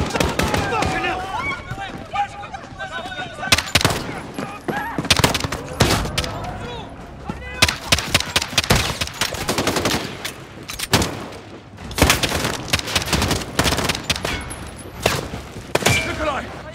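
Heavy gunfire from the video game Modern Warfare 2019 fills the scene with rapid bursts and dense volleys of loud shots, while voices talk in between.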